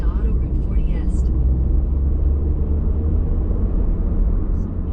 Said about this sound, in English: Regular highway acceleration here.